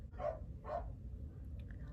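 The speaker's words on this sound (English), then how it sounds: "my dog is barking" A dog in timeout indoors barks twice in quick succession, moderately close, followed by faint background noise.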